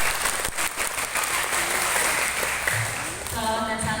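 An audience claps continuously at a narcotics-awareness outreach event at a junior high school, a thick, sustained wash of applause with faint voices and some tonal sounds near the end.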